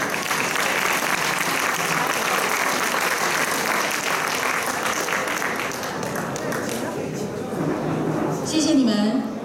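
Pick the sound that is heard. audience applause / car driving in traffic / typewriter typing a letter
audience applause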